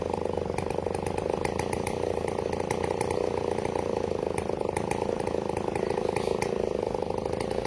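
An 8.5-horsepower chainsaw runs steadily at high revs cutting wood, its buzzing engine drone unbroken, loud and close throughout.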